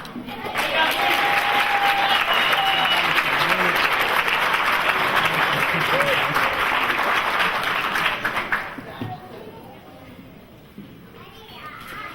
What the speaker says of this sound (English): Can you give all the graduates a round of applause?